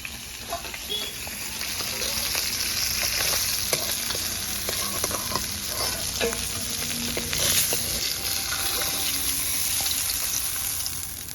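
Pointed gourd pieces frying in hot oil for a fish and potato curry, with a steady close sizzle throughout and light clinks and scrapes from a stirring utensil, no voices.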